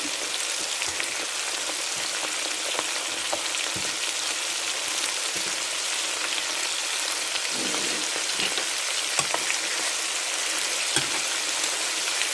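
Fish pieces coated in batter frying in hot oil in a pan, a steady dense crackling sizzle continuing evenly throughout with small pops, close and fairly loud, with no talking.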